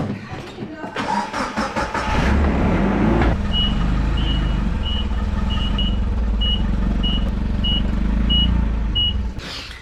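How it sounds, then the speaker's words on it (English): A forklift sounds a steady run of regular reversing beeps, about ten evenly spaced tones over a loud rumbling engine, with a voice and mechanical clatter near the start. "It's a forklift."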